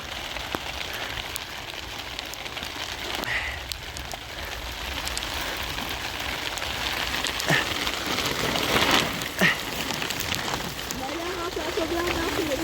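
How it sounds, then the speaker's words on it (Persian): Heavy rain pours down continuously in a dense hiss with scattered drip and splash hits, while people talk faintly under it. "خیلی بارون شدیدی گرفته."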